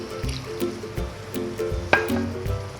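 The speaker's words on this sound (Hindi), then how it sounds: "इसके अंदर थोड़ा सा पानी शामिल करें ताकि टमाटर गल जाएं।" Water is poured into a cooking pot of tomatoes, giving soft, intermittent splashes, drips and squishy liquid sounds with a few sharper clinks, fairly quiet and close, with no talking.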